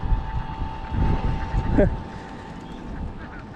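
A flock of ducks near Mithamoin, Bangladesh, heard during a bicycle ride, gives a brief cluster of quacks midway, set against a steady hum and low outdoor rumble.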